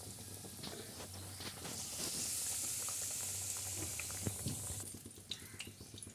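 Pazham pori banana fritters frying in hot oil, a soft continuous bubbling sizzle with occasional small pops and clicks, fairly faint and without any talking.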